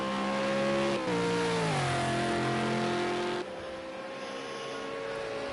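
V8 Supercar in a racing video game at Watkins Glen, engine wailing loud as it passes, pitch dropping through gear changes before fading into quieter track ambience.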